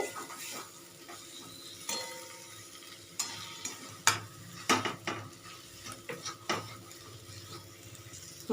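Fish is stirred and cooked down in a pan as its liquid reduces, with a soft continuous sizzle broken by repeated sharp scrapes and clinks of a utensil against the pan.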